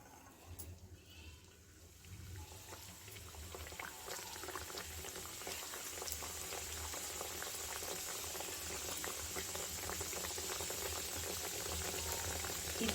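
Chandrakala sweets deep-fry in hot oil with a dense, bubbling roar that builds gradually and holds steady throughout. There is no clear talk.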